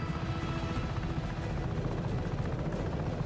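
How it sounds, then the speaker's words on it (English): Steady helicopter rotor drone from flying in the video game Just Cause 3, a continuous low hum with no voices over it. "There are helicopters down here that are better."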